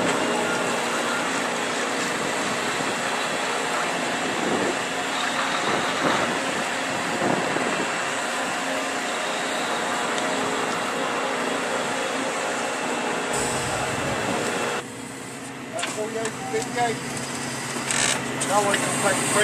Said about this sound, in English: be demonstrating a brand new 14 Trinity belt trailer, the first of its kind east of the Mississippi